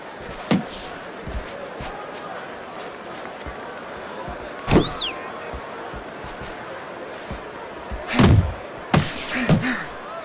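Punches thud in the Fight Night Champion boxing game, with a few sharp, scattered impacts, several heavy blows clustered near the end, and crowd noise and commentary in the background.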